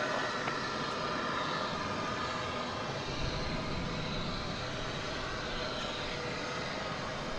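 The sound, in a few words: airliner taking off at DFW Airport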